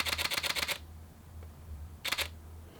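Canon R5 Mark II firing its mechanical shutter in high-speed burst: a quick rapid-fire run of crisp clicks, a pause, then a second shorter burst, close and fairly quiet with no talking.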